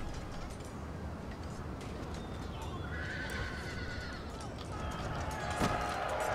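Horses neigh and whinny amid a chaotic American Civil War video game battle, with hoofbeats and dense battle noise filling the background.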